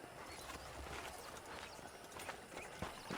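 Horse hooves clip-clop in Red Dead Redemption, a faint, even run of soft hoof taps that grows slightly louder toward the end.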